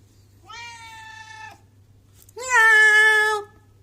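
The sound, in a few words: cat Timmy meowing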